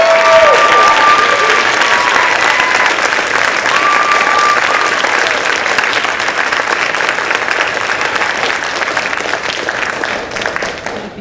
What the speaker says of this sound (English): I just wanted to give another round of applause for that cast and for the playwright Allison.